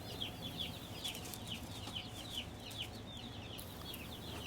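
Newly arrived baby chicks in a brooder peep constantly in a busy, overlapping chorus, close and moderately loud over a steady background hum.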